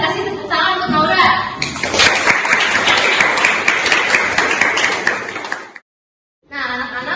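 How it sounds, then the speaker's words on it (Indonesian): Classroom applause for a student after a correct answer, steady clapping from a group of schoolchildren that swells after a second and runs loud and continuous before stopping abruptly, followed by faint room noise. "Semuanya boleh kasih tepuk tangan untuk Naura."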